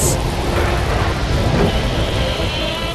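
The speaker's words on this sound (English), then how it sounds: "What a strong storm!" A strong thunderstorm with heavy rain pouring down as the sea rises, heard as a dense, loud, continuous roar of rain and low rumble throughout, with no talking.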